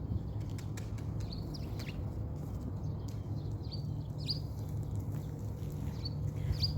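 Faint, sparse sparrow chirps and short calls from bushes over a steady low hum, scattered across the clip at a distance.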